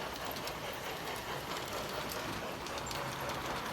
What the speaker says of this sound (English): So that it looks like the train goes in the tunnel and stops for 4 minutes.